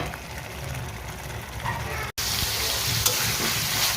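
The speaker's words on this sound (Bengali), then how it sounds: "আর এখানে হচ্ছে আলুটা ভালোভাবে কষিয়ে নিচ্ছি।" Potatoes stir-fried with spice paste for a shing fish curry, a loud continuous sizzle with brief clicks of stirring, cut by a momentary dropout and then returning brighter.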